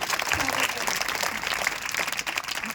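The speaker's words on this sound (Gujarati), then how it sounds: "તો આપણે તાળીઓના ગળગડાટથી એમનું" Audience at a primary school annual function breaking into brisk applause, a dense patter of many hands clapping heard at moderate distance over a short burst, with voices mixed in.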